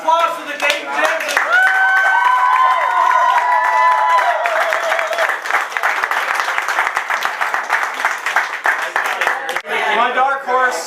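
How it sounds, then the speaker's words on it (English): An audience at a restaurant eating challenge applauds the Dayton Gems team with loud, sustained clapping, and voices cheer and talk over it. "All right, round of applause for the Dayton Gems."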